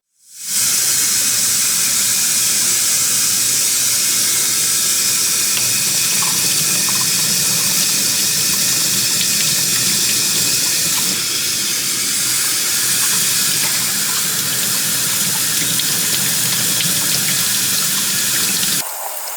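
Tap water runs steadily into a sink as a freestanding embroidered lace bookmark is rinsed to wash off its stabilizer, a continuous close hiss and splash lasting nearly the whole time without speech.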